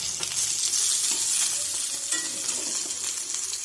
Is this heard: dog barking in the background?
no